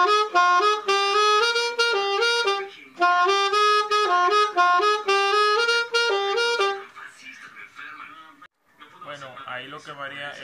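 Alto saxophone plays a melody in clear, detached phrases, then turns to softer, breathier notes near the end.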